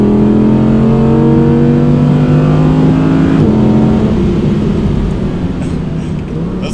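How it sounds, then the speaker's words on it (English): A powerful Audi R8 V10 engine revs loudly and steadily, its tone rising and then dropping off midway before settling into a lower, rumbling drone. "let's just enjoy that V10"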